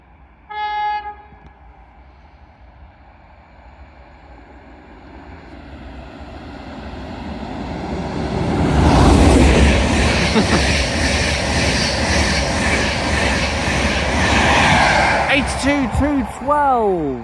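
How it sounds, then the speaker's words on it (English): LNER Intercity 225 express from London King's Cross to Bradford Foster Square passing through Grantham station on the East Coast Main Line, a brief announcement chime first, then a swelling roar of the train rushing through, fading as it goes, with curving squeals near the end. "Pass through now will be a LNER Intercity 225 set from London King's Cross to Bradford"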